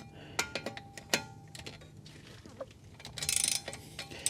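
A ratchet loosens the fan blade bolts on a 1966 Plymouth Fury, giving quick bursts of close, metallic clicking with short pauses and a louder rattling stretch near the end.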